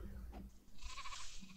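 A sheep bleats in the farming game My Time at Portia, a single wavering call lasting about a second over steady game background sound, fairly close and moderately loud.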